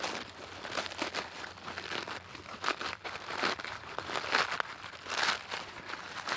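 Papery crinkling and tearing of a bald-faced hornet paper nest being pulled apart, a close, irregular run of crackling rips and crunches with no voices.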